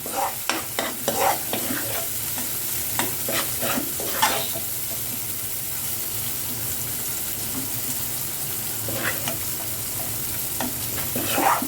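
Spice paste for yellow nasi uduk stir-frying in a pan, a steady sizzle carrying clusters of quick utensil scrapes and clatters early on and again near the end, no talking.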